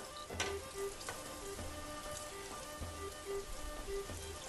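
Hot butter poured over keskek, a thick wheat and meat porridge, sizzling and crackling steadily with soft spattering pops throughout, close and continuous with no talk.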